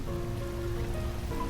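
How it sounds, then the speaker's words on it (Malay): Rain falls on a lake park at Taman Tasik Taiping, a steady soft patter and hiss of drops on water and surfaces, heard alone and at a low, even level. "Hari ni cuaca tak berapa nak baik sebab hujan."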